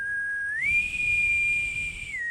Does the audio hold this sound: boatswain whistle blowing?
yes